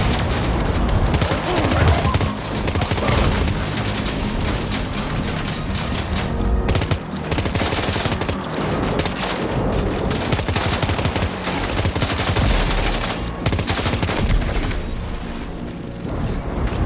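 Sustained gunfire from a Death Stranding 2 battle, dense bursts and rapid shots rattling almost continuously for the whole stretch, loud and close, with heavy booms mixed in and occasional voices beneath.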